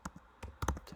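Keys on a computer keyboard tapped in short, irregular bursts of clicks, close and fairly quiet, with no talking over them.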